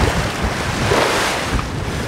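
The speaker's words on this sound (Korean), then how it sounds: "먼 바다까지 나와 그런지 파도가 꽤 높습니다" High swell waves roll at an offshore fish farm out at sea, a continuous loud wash of surf mixed with gusting wind buffeting the microphone.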